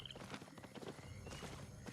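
Horse hooves clip-clop steadily in the Albion Online game, a quick even rhythm of hoofbeats at moderate loudness with no talking over them.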